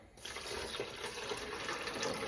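About two cups of water pour into a pan for a creamy orzo sauce. It is a faint, steady splashing fill lasting a couple of seconds.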